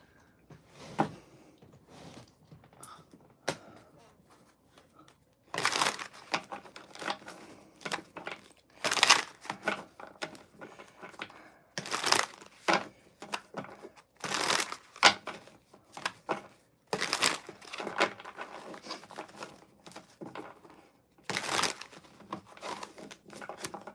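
Tarot cards being shuffled by hand before a reading, heard as close, sharp bursts of riffling and crinkling that come in irregular clusters between quieter pauses.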